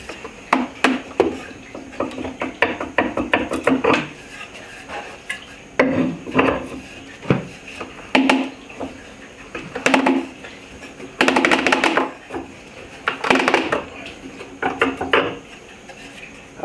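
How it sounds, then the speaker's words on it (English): Screws on a wooden press for cork-latex clogs are tightened by hand, giving repeated bursts of creaking, ratcheting wood-and-metal clicks separated by short pauses, close and moderately loud. "each time as I tighten this, I will tighten up the screws"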